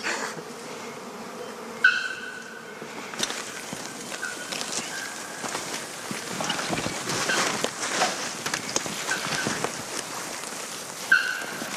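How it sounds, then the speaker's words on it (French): African bees swarming in a Brazilian garden, a diffuse, steady buzzing hum close by, with occasional brief sharper sounds over the continuous insect drone and no talking. "ce sont des abeilles africaines"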